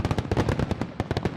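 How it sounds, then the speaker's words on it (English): Fourth of July fireworks over the Rose Bowl burst in a rapid, loud crackling series of sharp bangs, closely spaced and uneven, with no voices. "Fireworks light up the sky above the Rose Bowl every 4th of July."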